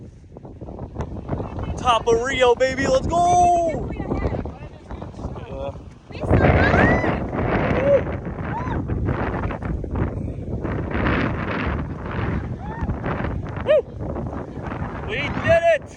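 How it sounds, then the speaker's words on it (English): Strong wind buffets the microphone on the summit of Pedra da Gávea in Rio, a loud gusting roar that surges and fades under people talking and cheering nearby. "it's super windy up here"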